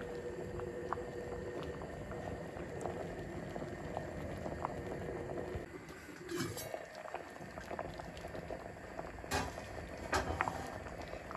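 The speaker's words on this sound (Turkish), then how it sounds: "İşte biraz daha bu kaynayacak" A Turkish village stew simmers and bubbles in a pot on the stove, a steady low burble with soft pops and occasional sharper plops, close and fairly quiet with no voices over it.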